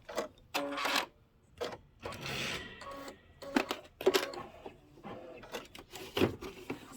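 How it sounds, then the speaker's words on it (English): Bobbin change on a Kimberbell embroidery sewing machine: a string of close clicks, taps and short plastic scrapes with brief gaps between them, no talking heard. "Let me go ahead and change out my bobbin."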